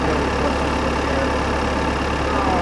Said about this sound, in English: I rev up the engine with the gas pedal